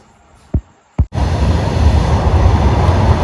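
A train rolls past a railway level crossing in a village, its loud steady rumble starting abruptly after two brief knocks and continuing close by without voices.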